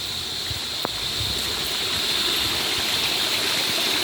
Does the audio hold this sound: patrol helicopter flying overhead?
no